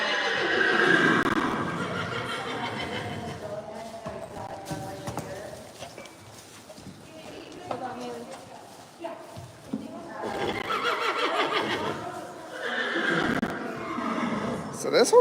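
A horse at a rescue assessment whinnies in drawn-out calls near the start and again toward the end, over a noisy crowded barn setting with people talking throughout.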